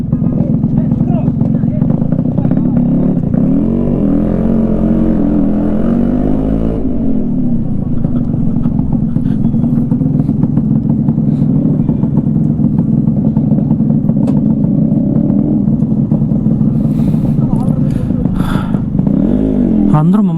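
A Yamaha RX100 two-stroke motorcycle engine runs loudly and steadily close by, with a rising rev partway through and people talking over it.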